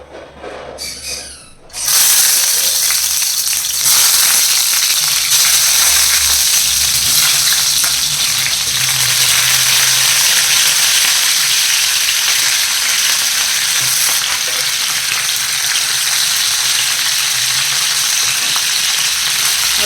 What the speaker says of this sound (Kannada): ಆಯಿಲ್ ಕಾದಿದೆ ಇವಾಗ ನಾನು ಟೊಮೆಟೊ ಹಾಕ್ತಾಯಿದ್ದೀನಿ